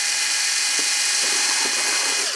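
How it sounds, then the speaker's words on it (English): A power drill bores a hole through the hull of a Sig Somethin' Extra model boat, just behind a small bulkhead; a steady high-pitched whine runs throughout, close and loud, with a few faint knocks. "we're going to drill a hole on this side right behind that little bulkhead"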